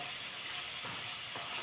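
Green chillies roasting in hot oil in a pan while cooking bhendi (okra) bhaji, a soft continuous sizzle with faint crackles and a couple of light stirring scrapes.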